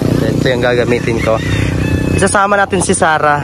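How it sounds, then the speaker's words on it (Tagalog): An aunt's motorcycle on a countryside outing, its engine running steadily nearby under continuous talking from several voices. "And then si Tita, ayan yung motor niya."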